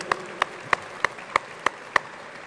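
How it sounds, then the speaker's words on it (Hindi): At the IFFI 2021 inaugural ceremony in Goa, seven sharp, evenly spaced claps ring out in a steady rhythm against a quiet hall. "मेरे ख्याल तालियां बजती रहें तो आई थिंक और मजा आएगा एवरीबडी."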